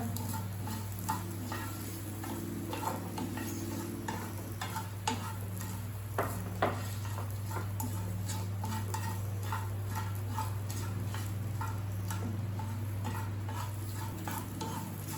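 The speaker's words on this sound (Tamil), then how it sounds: "உள்ளி போட போகிறேன். இந்த வடிவே வதக்கணும் பொன்னிறமா." Garlic sautés in a pan for a potato and pork sausage stew, a quiet, soft sizzle under irregular clinks and scrapes of stirring, with no talking.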